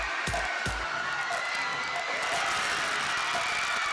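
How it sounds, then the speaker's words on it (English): Home crowd at Blazer Arena making steady, broad noise during a basketball game against Marion, with a couple of sharp thumps at the start and the roar holding level throughout. "Crowd making some noise here at Blazer Arena."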